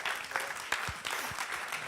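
Audience applause at a Paris motivational conference event, a steady wash of clapping filling the whole short stretch with a few sharper claps standing out.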